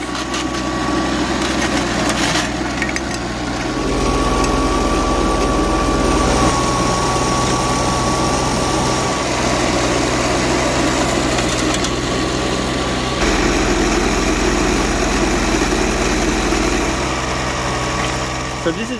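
A dry blower engine runs steadily throughout while prospecting for gold, a loud continuous droning hum with a faint high whine, with people talking briefly over it.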